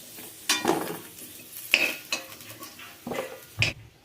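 Potato pieces are stirred in a pan, with several distinct metallic scrapes and clanks of the utensil against the pan at irregular intervals over a faint sizzle, close up and without speech.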